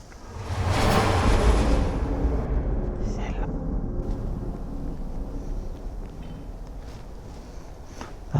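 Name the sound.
wind blowing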